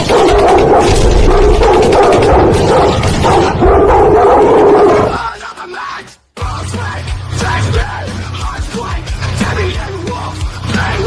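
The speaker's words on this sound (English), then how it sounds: "Release the dogs." Loud dogs barking and yelping amid a rowdy crowd at a GPW wrestling event as a wrestler makes his entrance, followed by a brief drop-out and then continued noisy crowd din.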